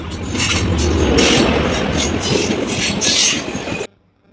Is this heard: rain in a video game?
no